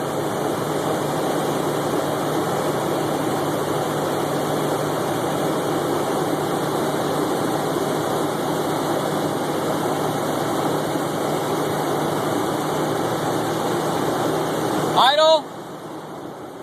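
A CNG-fuelled V8 engine idles steadily, a dense even rumble held close and loud for most of the time, then it cuts off near the end with a short burst of other noise and quieter hum after.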